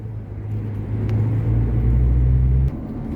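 Low steady rumble of heavy road traffic heard from inside a 34-ton commercial truck on the N3 at Town Hill, KZN, with an engine drone building and then cutting back sharply near the end.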